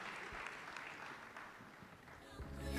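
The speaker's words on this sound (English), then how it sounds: "let's give a big round of applause to our panelists" An audience applauds panelists at the close of a ministerial and executives policy dialogue, steady mid-level clapping filling the room, with a few voices briefly audible underneath.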